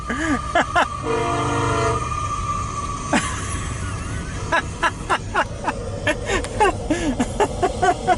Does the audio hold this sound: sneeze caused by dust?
no